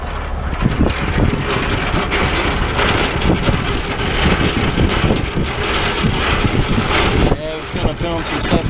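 Strong wind blows steadily around a truck on a delivery run to Portland, a loud continuous rushing roar with buffeting against the microphone, while someone talks over it throughout.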